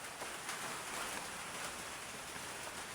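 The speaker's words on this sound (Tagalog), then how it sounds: "Umuulan na mga tol." Steady rain falls outdoors at a quiet rural spot, a dense even hiss of drops on surfaces throughout with no voices.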